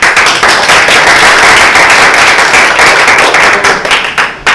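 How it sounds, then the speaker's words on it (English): Loud, sustained applause fills the room at a Toastmasters table topics session, a dense, even wash of many hands clapping close by with barely any voices in it. "let's give another round of applause to all the gifts"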